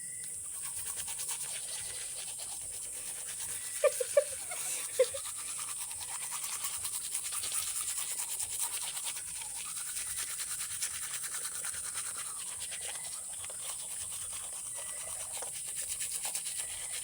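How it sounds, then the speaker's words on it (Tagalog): A toothbrush scrubs teeth close up, with a steady bristly scrubbing that runs throughout, a couple of brief knocks, and no talking. "tapos na nga kami mag-toothbrush"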